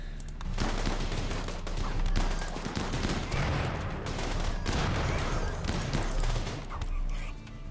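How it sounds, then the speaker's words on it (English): Dense, continuous gunfire from a battle in the video game RimWorld, with shotguns among the weapons. Shots overlap into a steady roar that holds loud across the whole stretch, and a voice talks faintly underneath. "The shotguns are beginning."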